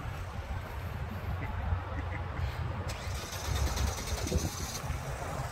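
A Chevrolet Malibu engine runs with a low, steady rumble, fairly faint under wind-like noise and a brief rattle, with no clear talk.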